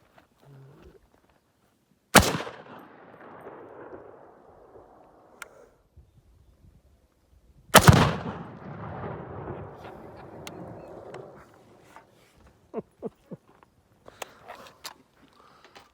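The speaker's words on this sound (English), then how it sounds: "we're gonna shoot our little meteor tannerite with my dad's new M14 .308 caliber" A new M14 .308 caliber rifle fired at a tannerite target outdoors, two sharp, loud blasts several seconds apart, each followed by a rumbling boom and debris falling, then scattered faint clicks and taps.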